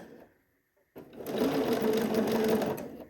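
A sewing machine stitches a dress sleeve, a steady rapid whirring run of about two seconds that starts abruptly after a brief quiet pause and ends cleanly.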